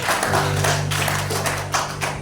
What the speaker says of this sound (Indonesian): Yang setuju beri tepuk tangan dulu saudara